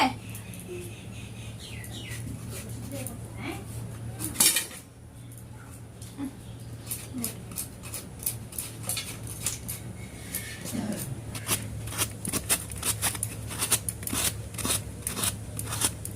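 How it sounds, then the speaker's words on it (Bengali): Coconut scraped by hand in a kitchen: sparse scrapes at first, then a quick, regular run of rasping strokes close by over a low steady hum. "আমরা এখন নারকেলটাকে চেঁচে নিব ভালো করে।"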